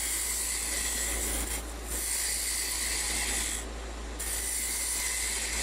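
A wood lathe makes an aggressive roughing cut on a chess pawn blank, a continuous loud scraping and rasping with a low motor hum underneath, briefly easing twice before resuming.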